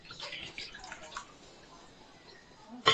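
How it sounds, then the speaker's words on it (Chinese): Running water splashes as fish slices and a plate are rinsed, with light intermittent splashing and drips at moderate volume and a sharper splash at the end. "现在洗干净，碟子有盐分要洗一下"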